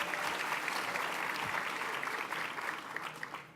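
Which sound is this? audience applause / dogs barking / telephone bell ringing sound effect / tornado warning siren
audience applause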